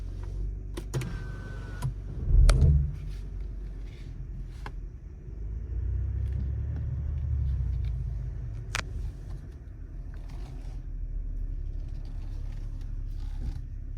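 A BMW 340i Touring with 374 horsepower pulls away on a test drive, its low engine rumble swelling in the middle and holding steady, with a short clunk and whir near the start and no talking.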